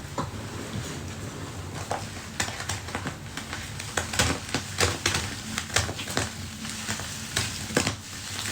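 Laundry suds being mixed by hand, wet squelching and sloshing with irregular crackly bursts of foam, close and steady with no talking.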